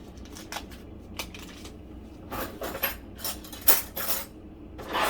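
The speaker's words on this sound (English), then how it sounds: "Finding a knife to cut up some butter." Knife and cutlery clinks and scrapes against dishes while butter is cut up for a Cajun-style jambalaya, sounding as scattered, close, light metallic taps and rustles.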